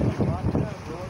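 Strong wind buffets a small fishing boat off Karachi, making a rough, gusty roar across the microphone for a short moment, with a voice speaking under it.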